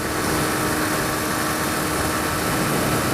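2013 Honda CBR125R motorcycle at about 80 mph in sixth gear, engine droning steadily below 10,000 RPM and mixed with loud continuous wind rush throughout, no talk.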